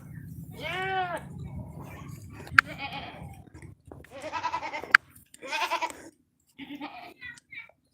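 A domestic goat kept with cows and bullocks bleats several times, near but moderately quiet, in short wavering calls separated by pauses, with a few sharp knocks in between.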